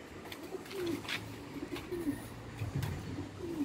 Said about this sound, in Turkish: Bugün kuş izleyeceğiz burada.